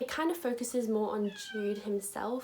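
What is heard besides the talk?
cat meowing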